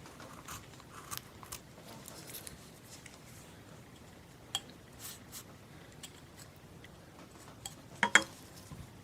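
A knife presses a stop cut into wood during hand carving of a rough-out, giving faint, sparse clicks and small crisp snaps against a quiet background, with a sharper pair near the end.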